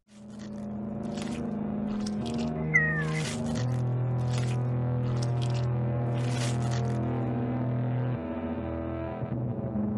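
A cat meows and caterwauls in a flash horror video game, a drawn-out, wavering cry over a droning tone, with sharp scraping bursts breaking in at intervals.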